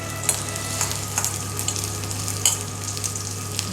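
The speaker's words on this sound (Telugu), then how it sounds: "చిన్న అల్లం ముక్క కూడా వేస్తున్నానండి" Small pieces of ginger fry in a hot pan, a steady close sizzle broken by a few light clicks and stirring taps, with no speech.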